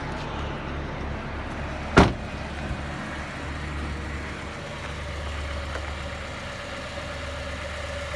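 A Honda Integra DC5 Type R engine idles steadily with a low, even rumble, and a single sharp click cuts through near the start.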